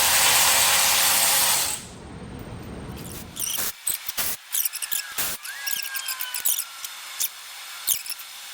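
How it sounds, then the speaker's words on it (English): A power wrench working on engine bolts during a 1972 Chevy Chevelle engine refresh, a loud continuous whir that cuts off, then a series of short sharp clicks and rattles. "So these wrenches don't have enough oomph to get them started, but once they break loose, they come quick."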